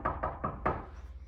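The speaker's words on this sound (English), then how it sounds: "Sounds like somebody's at the door." A quick series of four firm knocks on a door, close and moderately loud, the last one slightly stronger, followed by a short quiet pause.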